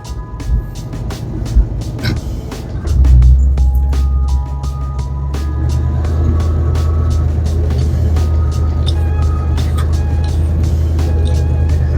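A 1973 Ford Mustang rebuilt from a pile of parts rumbles along on its first test drive, its engine note swelling at about three seconds into a steady, close drone.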